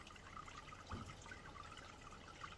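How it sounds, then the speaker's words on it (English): Water from a koi pond plant filter and bubblers trickles and splashes softly and continuously, faint and steady with a few small splashes. "with just the plant filter running"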